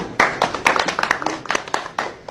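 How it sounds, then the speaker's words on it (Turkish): Scattered clapping from a small group of guests at a Turkish civil wedding ceremony, uneven sharp claps spread across the moment, fairly close and loud, without talk over them. "Bir alkış yapın."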